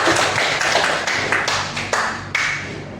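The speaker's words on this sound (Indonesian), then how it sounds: "Beri aplaus untuk semuanya." A classroom group claps in a loud, steady burst of applause that stays close and dense throughout, with no voices over it.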